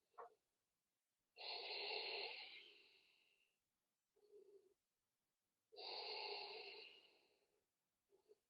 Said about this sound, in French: Je commence la respiration.